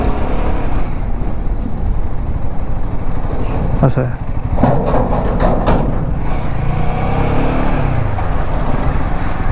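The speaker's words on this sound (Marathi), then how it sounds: "शनिवार असल्यामुळे ट्रॅफिक पण आहे आणि ट्रक पण खूप लागत आहेत मला" Weekend traffic on the Mumbai–Goa highway, with cars and many trucks: a continuous road roar with passing vehicles and brief clattering bursts, heard from a moving vehicle while a voice speaks briefly.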